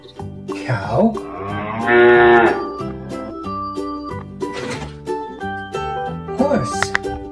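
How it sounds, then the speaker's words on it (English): A farm animal toy cow lets out a long, loud moo over a plinking electronic melody, followed by a few shorter animal-like calls. "Cow."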